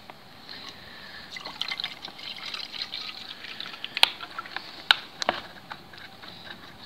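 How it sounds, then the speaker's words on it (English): Sports drink poured into an empty Nalgene bottle outdoors, a soft continuous liquid trickle and splash with a few sharp drips and clinks near the end, fairly quiet. "I'm going to pour this sports drink into my empty Nalgene bottle"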